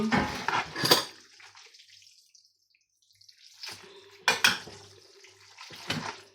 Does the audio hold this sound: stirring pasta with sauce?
yes